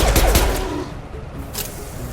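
Gunfire from a high-impact shot in the science-fiction game Mass Effect, a few sharp bursts early on, then quieter reports trailing off beneath a busy battle mix.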